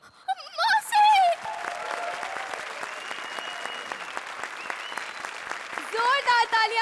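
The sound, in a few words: audience applause for the comedy act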